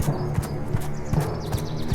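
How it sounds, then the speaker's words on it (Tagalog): Goat hooves clop in an even walking rhythm, fairly quiet, with hollow taps on a wooden bridge. "maririnig ang mga yapak ng panganay na kapatid sa tulay"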